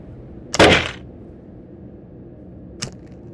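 A sudden harsh, crackling burst rings out as a light goes out in a kids' playground setting, fading over half a second, followed by a short sharp click a couple of seconds later against quiet background hiss.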